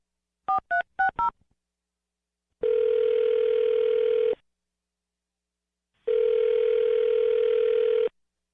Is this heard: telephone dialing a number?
yes